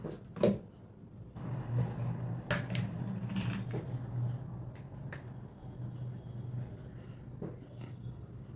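Spices for tempering coconut chutney crackle and pop in hot oil, giving scattered sharp snaps over a steady low sizzle that runs throughout, close by and without talk.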